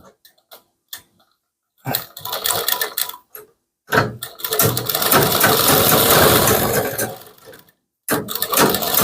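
A sewing machine stitches around the lining of a kurti in short bursts, then runs in one longer steady stretch, with brief pauses and handling noises between runs.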